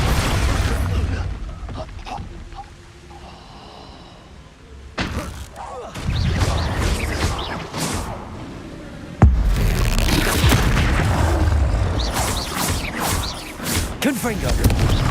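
Expulso spell explosions in Hogwarts Legacy, a couple of loud sudden booming blasts with crashing debris amid spell effects, while a player talks over the action.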